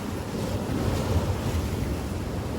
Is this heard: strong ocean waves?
yes